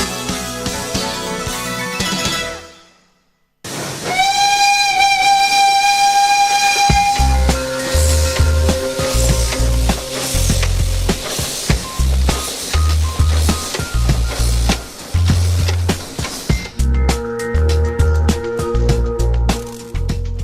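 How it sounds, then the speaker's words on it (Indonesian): The Sepur Kluthuk Jaladara, an old restored steam tourist train in Solo, sounds a long steam whistle, then chuffs and clanks rhythmically along the rails, loud and close, with heavy rumbling beats throughout. "Ini namanya Sepur Kluthuk Jaladara. Itu kereta lama yang kita restorasi kembali, rehab kembali, kemudian dijadikan kereta wisata."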